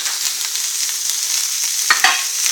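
Potatoes fry in fat in a pan, giving a close, continuous hissing sizzle with a couple of brief scraping stirs near the end and no voices.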